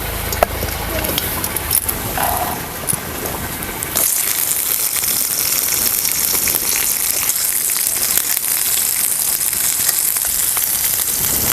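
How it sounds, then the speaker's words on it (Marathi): Fresh chilies roast in a hot pan with a steady, close sizzle that rises sharply after the first few seconds and continues evenly to the end, with no voices over it. "मिरची जरा भाजून घेऊया"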